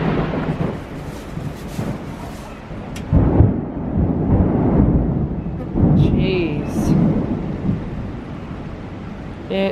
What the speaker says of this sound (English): not even raining out there yet and we're hearing thunder like that